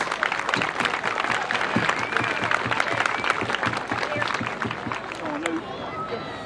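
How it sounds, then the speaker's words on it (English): Crowd at a youth baseball league gathering applauds board members and coaches, steady moderate clapping mixed with murmuring chatter and a few whoops. "give a big round of applause to all the board members, managers, coaches, team moms, scorekeepers"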